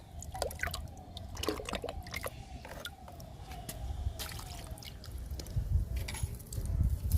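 Liquid fertilizer poured onto potted fruit plants such as a sweet lemon, with a soft dribbling and splashing of liquid close by outdoors, faint and uneven, no speech.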